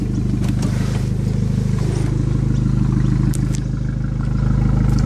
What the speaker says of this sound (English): is that lovely, raughty, snarling, popping, farting exhaust that it has, especially when it's underway